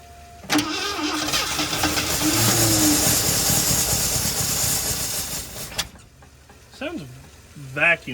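A Ford F350 pickup, abandoned and sitting for 22 years, with a vacuum leak, cranks and catches, then runs loud and rough for several seconds before cutting out, followed by a voice.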